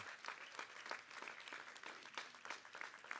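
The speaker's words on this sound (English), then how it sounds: "can we give him a huge round of applause?" An audience at a medical college commencement ceremony claps for a leader, a brief burst of fairly faint, dense applause with rhythmic peaks and no talking.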